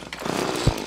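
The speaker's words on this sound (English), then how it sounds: "Dig, you beautiful drill." A drill grinds through ground in Terraria, a harsh continuous buzzing churn with a heavy thump near the end, loud and up close.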